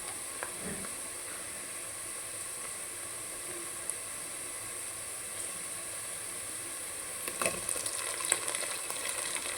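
Tomato pieces cooking with softened onions in a pan for an aloo tomato curry, a steady quiet sizzle and hiss throughout with a few faint clinks and scrapes of stirring near the end.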